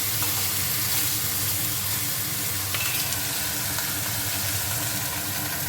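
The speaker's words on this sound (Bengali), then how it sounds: "মাছ ভাজা হচ্ছে" Hilsa fish frying in hot oil, a steady, close sizzle and crackle that holds evenly throughout with no voices.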